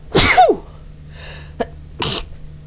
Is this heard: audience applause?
no